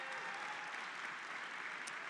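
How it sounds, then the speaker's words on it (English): A steady round of applause from a reception crowd at an artifacts gallery opening, honoring veterans; dense, even clapping throughout at moderate distance, fairly quiet. "let's give Mr. Bob Wolf a round of applause as well"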